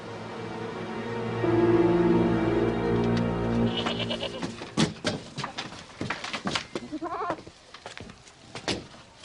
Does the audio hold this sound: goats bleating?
yes